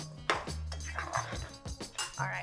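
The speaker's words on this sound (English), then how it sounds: "I'm just gonna give this a quick stir" A spoon stirs Guinness goat stew in a pot, a run of clanks and scrapes against metal with irregular knocks and a few ringing clinks, fairly close and moderately loud.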